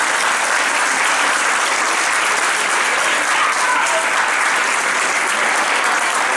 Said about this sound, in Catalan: Us poseu drets i us fem aplaudiments